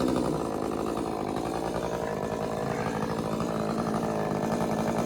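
A Stihl MS201TC chainsaw engine runs steadily at idle, its buzzing note rising and falling slightly as it surges, close and loud with no talking.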